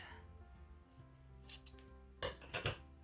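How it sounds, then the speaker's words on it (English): Fabric scissors snip through cloth in a few sharp, close metallic clicks, a couple of isolated cuts followed by a quick cluster, over a quiet room. "And then I need my fabric scissors, and we're gonna just use the edges."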